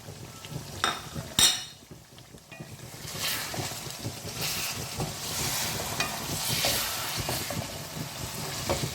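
Aloo baingan fries with spices in a pan as a spoon stirs it, giving a steady rustling sizzle with a sharper clatter near the start, close and fairly soft, with no one talking.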